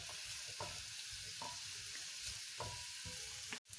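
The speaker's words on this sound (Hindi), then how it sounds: "ये प्याज फ्राई हो रहे हैं" Onions fry lightly in oil with a soft, steady sizzle and occasional clinks of a spoon stirring the pan, ending with a short sharp knock.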